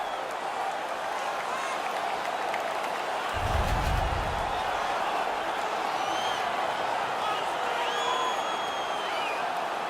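Arena crowd in an NHL 18 hockey game between the Philadelphia Flyers and Colorado Avalanche roars steadily after a fight, with a brief low thump partway through and a constant dense wash of cheering throughout.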